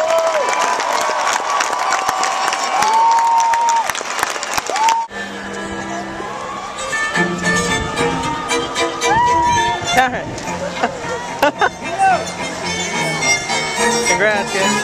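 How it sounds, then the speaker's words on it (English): A large graduation crowd at a university commencement applauds and cheers for the class of 2011, with whoops and shouts over clapping, while talk and other voices mix through the noisy scene. "Please join us once more in a round of applause for all of them."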